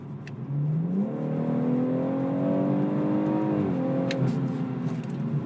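A BMW M140i in Sport Plus mode accelerates hard from cruising, its engine note climbing steadily in pitch for several seconds before easing off, close and loud with no talking.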